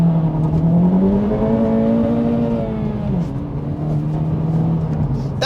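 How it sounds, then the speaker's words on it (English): A 2024 Acura Integra Type S with its turbo engine pulled hard from a standstill, the tone climbing steadily through the revs, then dropping at a shift before it builds again. Loud and close, heard from inside the car. "I'm going to floor it from a stop to see what the torque steer situation is like."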